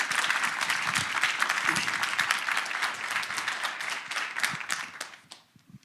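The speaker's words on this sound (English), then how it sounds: "So maybe a little clapping to say thank you to them" An audience at a beverage-industry lecture claps in thanks, a dense, crisp round of applause that holds steady and then thins out and fades near the end.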